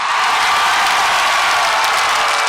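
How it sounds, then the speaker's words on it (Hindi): Huge rally crowd of PTI supporters at Parade Ground in Islamabad applauding and cheering, a steady dense roar of clapping and voices that stays loud throughout. "जरा हाथ उठाकर तालियों की गूंज में बताइए आप इमरान खान से कितना प्यार करते हैं"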